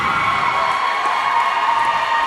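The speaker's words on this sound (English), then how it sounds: "And they are cheering." Loud, dense crowd cheering fills a school gym during a homecoming volleyball game, a continuous roar of voices and shouts held steady throughout, close and with no talk on top.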